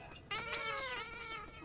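A cat gives a single drawn-out meow, loud and close, with a rising then falling pitch that lasts just over a second in an otherwise quiet indoor room.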